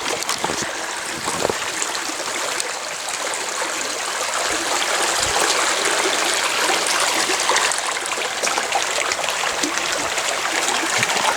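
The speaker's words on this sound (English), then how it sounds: "I'm by a brook, let me show you." A brook flows steadily beside a remote ranch ruin, a continuous broadband rush and trickle of water holding an even level throughout, close and alone with no voices.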